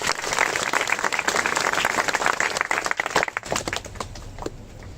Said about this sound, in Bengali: আমাদের জনাব শামীম স্যারের প্রতি জোরে একটি করতালি